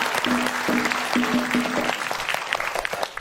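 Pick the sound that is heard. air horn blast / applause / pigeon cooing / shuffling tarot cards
applause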